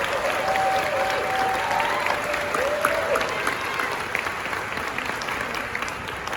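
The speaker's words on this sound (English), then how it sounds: "Can we also maybe get one more round of applause for Nevaeh?" Gala audience applauding steadily for several seconds, a dense wash of claps fairly loud and close, with a few faint voices and cheers mixed in.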